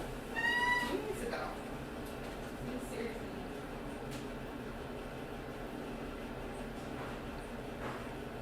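A pet cat gives one brief, clear meow near the start, fairly close, and then a steady low hum of room noise fills the rest.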